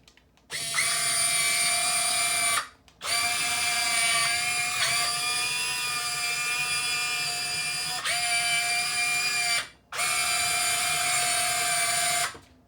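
The motor of a Huina 1580 RC toy excavator whirs in four high-pitched bursts, each a steady electric whine with brief silent pauses between them.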